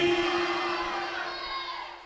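A crowd at a religious gathering roars back in unison, a sustained swell of massed voices that starts loud and slowly tapers off over about two seconds.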